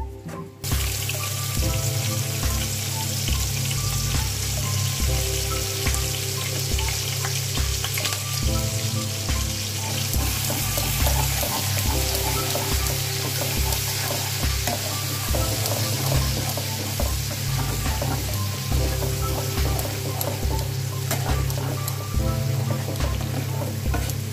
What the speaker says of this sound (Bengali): এই পেস্টটা আমি বানিয়ে নিয়েছি, এটাকে আমি এখন তেলে দেব মোচা রান্নায়